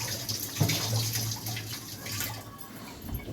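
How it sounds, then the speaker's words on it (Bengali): Water pours steadily into a pot of mutton stew with tomato puree, a close splashing stream that tapers off. "এটা দিয়ে জলটা দিয়ে নিই"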